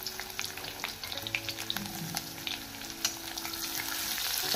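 Onion frying and being stirred in a pan for a spinach dal, a bright continuous sizzle with repeated scraping clicks of the spoon, close and clear with no talking.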